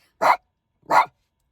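A dog gives two short, sharp barks about half a second apart, close by, with silence between and after.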